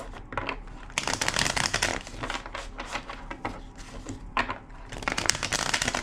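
A deck of tarot cards shuffled repeatedly up close, crisp papery riffles and taps in uneven bursts with brief gaps, fairly loud and with no talking.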